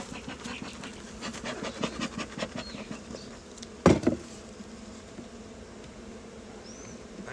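Honeybees buzz steadily at close range during a February hive inspection, a dense hum with flickering passes and one brief louder burst midway.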